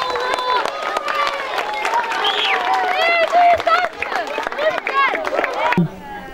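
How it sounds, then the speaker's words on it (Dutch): A crowd applauds and cheers for Peace Run runners, a dense, loud wash of clapping mixed with many excited voices that drops away sharply near the end. "Ik wil een heel, heel groot applaus voor al deze renners voor de vrede."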